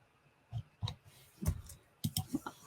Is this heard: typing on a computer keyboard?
yes